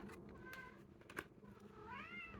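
A pet cat meows twice, the first call short and the second longer with a rising-falling pitch, fairly close against a faint room background while a person is busy nearby.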